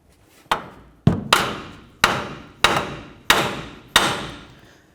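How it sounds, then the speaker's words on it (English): A hammer strikes the steering knuckle of a 2004-08 Ford F-150 to free the outer tie rod end: six sharp, close metallic blows land about every second, each ringing briefly before the next. "it's best to hit right along the knuckle"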